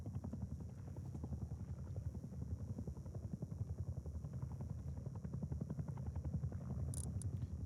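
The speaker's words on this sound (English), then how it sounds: "That's how far we can hear the helicopter." A distant helicopter in the survival game Rust near Outpost, its steady rapid rotor chop thumping faint and low, continuing evenly throughout with no one speaking.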